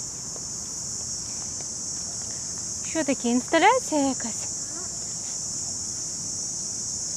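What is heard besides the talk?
cicadas chirping near a river in Vietnam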